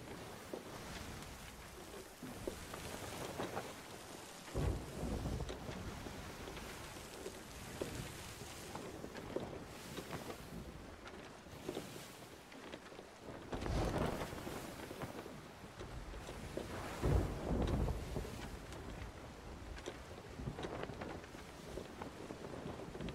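Stormy weather at sea in Sea of Thieves, with steady rain and gusting wind roaring throughout and a few heavier rumbling swells that could be thunder.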